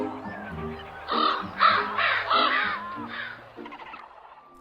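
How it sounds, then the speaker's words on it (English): Ravens caw several times in a harsh, rasping series, loud and close, with a steady low background hum underneath and no talking. "the big raven and its folks ate almost every starfruit on"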